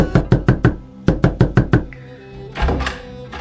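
A stuck door is knocked or rattled hard in two rapid runs of about five loud, evenly spaced thumps, then a rougher scraping shove near the end.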